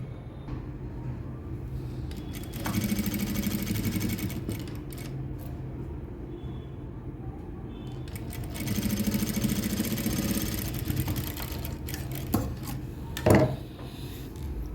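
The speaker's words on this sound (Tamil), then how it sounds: "இது மேல் தையல் ஓரமாக ஒரு தையல் போட்டுக்குவோம்" A sewing machine stitches piping along the edge of a blouse in two bursts of steady whirring, each lasting a couple of seconds, separated by quieter handling and rustling of fabric.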